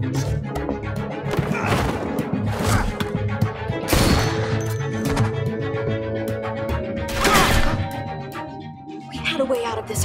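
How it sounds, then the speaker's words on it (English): Gunfire in The Walking Dead: A New Frontier rings out as a series of sharp, loud shots and cracks at irregular intervals, with impacts and bursts mixed among game sounds and voices. "I hear gunfire."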